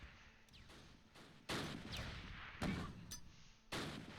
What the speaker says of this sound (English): We're being shot at from the east right there